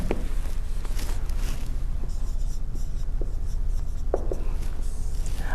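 Handwriting during a maths lesson makes scratchy pen or chalk strokes, broken by scattered light taps and pauses, and is heard close and alone.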